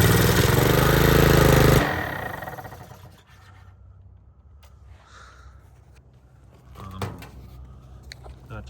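A Honda GCV190 small engine runs loudly for about two seconds after a little fuel is added, then cuts out. Faint clatters and handling noises follow in a quiet workshop.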